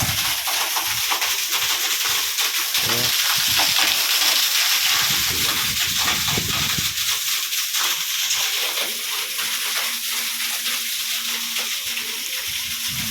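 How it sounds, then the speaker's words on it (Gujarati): Water rushing through a long pipeline laid out to a farm field, a continuous loud hissing gush with bursts of splashing in the middle stretch, no voices. "અમારી વાડી મિત્રો પાણી આવી ગયું છે આપણી લાઈનની અંદર"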